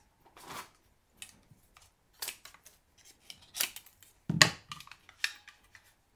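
Scissors snip material for a bee-themed Valentine box, a series of quiet, close, irregular cuts separated by silent pauses.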